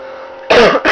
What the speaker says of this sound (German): Sorry, ich musste noch mal husten.